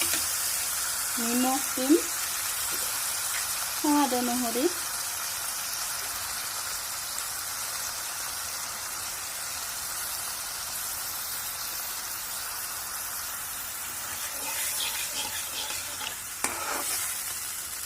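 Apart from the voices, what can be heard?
bamboo shoots being stir-fried in a pan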